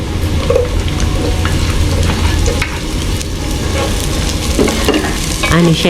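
Garlic sautés in a pan for a Filipino beef-innards papaitan stew, a dense steady sizzle with loud stirring scrapes and clatter running close and continuous throughout.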